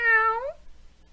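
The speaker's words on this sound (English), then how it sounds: "Meow." A single clear cat meow, close and loud, gliding into a rising tone before cutting off, then near silence.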